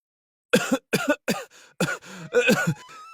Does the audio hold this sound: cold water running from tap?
no